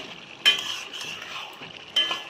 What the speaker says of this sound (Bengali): তো জলটা শুকনো অবধি একটু নাড়াচাড়া করে নেব।